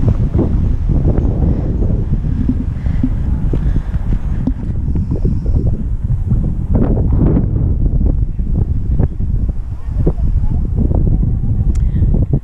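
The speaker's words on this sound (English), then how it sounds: "it's so windy, I don't know whether any of this is going to pick up or not" Strong wind in Edinburgh during the 2019 Fringe festival buffets the microphone in a steady, loud rumble with gusty surges throughout, no other clear sounds standing out.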